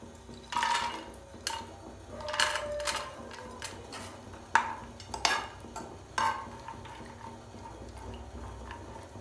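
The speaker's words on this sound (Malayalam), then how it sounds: "നെയ്യ് ചൂടായി വരുന്നുണ്ട്. നമുക്കിതിലേക്ക് നട്ട്സ് ഇട്ട് കൊടുക്കാം." Nuts dropped into hot ghee in a pan, a few distinct clinks and taps against the metal as they land and are stirred, over a faint steady hiss, fairly quiet and with no talk.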